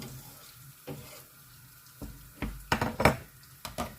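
Pork fat cracklings frying in a pan as a spoonful of melted lard goes in, a faint background sizzle broken by sharp clatters and scrapes of a spoon against the pan.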